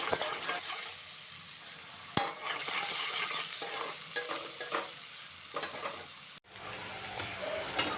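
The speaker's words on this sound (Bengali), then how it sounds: "পেঁয়াজ আর রসুনটা কিছুক্ষণ ভেজে নিয়ে তারপর দিয়ে দিলাম চেরা কাঁচা লঙ্কাগুলো" Onion and garlic frying in a pan with salt for a Bengali lote fish jhuri, a steady close sizzle broken by stirring scrapes and one sharp utensil knock, with a brief dip near the end.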